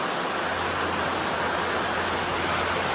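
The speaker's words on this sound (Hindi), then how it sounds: "बारिश इतनी तेज है ना" Heavy rain falls during a Kanwar pilgrimage road trip from Haridwar to Pura Mahadev, a dense, steady hiss of downpour that fills the whole stretch without letup and with no talking.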